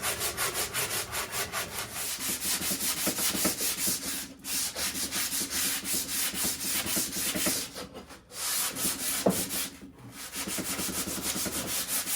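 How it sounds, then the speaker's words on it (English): Hand sanding of a wooden axe handle, smoothing out rasp and file marks, heard up close as rhythmic back-and-forth rubbing strokes with brief pauses, alone without talk. "we'll go through and sand all the heavy rasp marks and file marks out of it"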